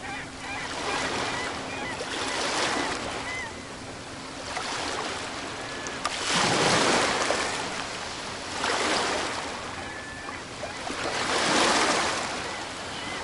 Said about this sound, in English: The sound of the ocean makes me very, very happy.